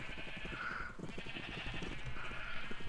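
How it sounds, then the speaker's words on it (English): Sheep in a video game bleat repeatedly, one after another, with a steady rhythm over a continuous game ambience. The calls sit close and moderately loud, with no talking. "Just slowly lead some sheep into the back pen here."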